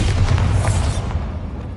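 The Bombarda spell in Hogwarts Legacy goes off as a loud, close, low boom that rumbles on and slowly fades.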